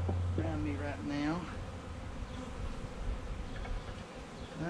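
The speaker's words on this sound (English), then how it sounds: "there's like 60 million bees right here around me right now" A dense swarm of honeybees from a package being installed into a Layens horizontal hive buzzes continuously all around, and a voice speaks briefly over the drone at the start.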